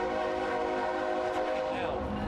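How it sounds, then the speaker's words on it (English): A train rolls past near a busy intersection, its horn sounding as a loud, sustained chord of steady tones over rumbling wheels, heard close and continuous throughout. "do you want me to talk over the train?"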